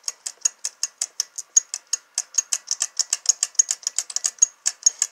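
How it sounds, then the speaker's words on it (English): A ratchet wrench clicks in quick, uneven bursts while loosening a bolt on a high pressure fuel pump, with sharp close ticks and short pauses and no talk. "you have to use the wrench to break it loose"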